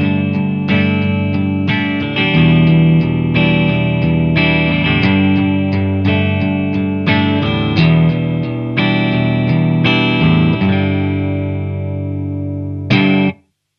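Electric guitar with a clean, mellow tone played through a practice amp, strummed chords and picked notes ringing steadily for about thirteen seconds, close and full, ending with a short final strum that cuts off.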